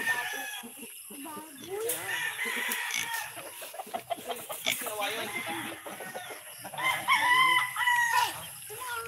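Farm chickens clucking and a rooster crowing, with busy overlapping bird calls close by and voices talking over them throughout.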